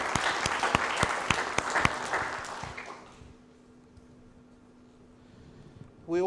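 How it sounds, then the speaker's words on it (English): Conference audience applauds a student leaders' panel at a university closing session: several sharp, loud claps stand out over a brief burst of applause that fades out after about three seconds, leaving quiet room tone before a voice begins. "Let's give them a round of applause as well."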